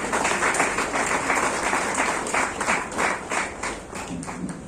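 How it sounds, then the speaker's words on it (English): Sustained applause from a seated audience at a sports jersey unveiling ceremony for a Goa league team, steady dense clapping that swells and fades slightly across several seconds with no talking over it. "Applause, please."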